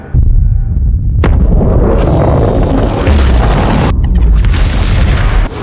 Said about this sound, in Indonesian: rudal itu meledak dengan kekuatan yang luar biasa